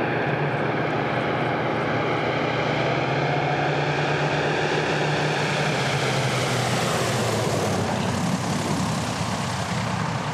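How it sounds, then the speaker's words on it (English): A DC-3 propeller aircraft on skis lands on a remote Alaskan airstrip, its engines a loud, steady droning roar that builds and holds throughout. "they say they're the only DC-3 in the world to land on skis"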